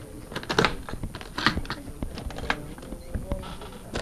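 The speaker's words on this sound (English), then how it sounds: "There's always one more latch than I think there is on this thing, right?" Latches on a banjo case snap open one after another, giving a handful of sharp, fairly quiet clicks spaced about a second apart over faint background noise.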